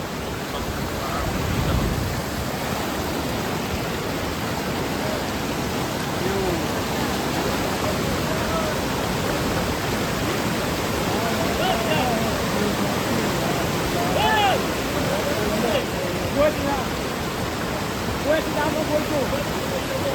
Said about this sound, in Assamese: এটা ইমান সুন্দৰ জলপ্ৰপাত